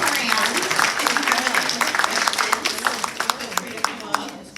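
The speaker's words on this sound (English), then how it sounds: "Can we give one round of applause?" An audience applauds at the end of an astrology talk, a dense burst of clapping from many hands that lasts several seconds, with a voice speaking over it.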